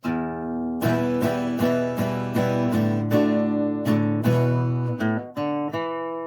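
Acoustic guitar riff from a song, played solo and close: bright picked notes and strummed chords repeating in a steady rhythmic phrase, loud and clear with no talking.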